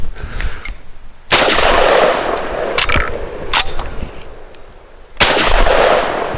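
An AWS Spets 12 shotgun fired outdoors while standing in a mud puddle, three loud, sharp blasts spaced a few seconds apart, each followed by a long rolling echo.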